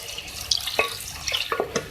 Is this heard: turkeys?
no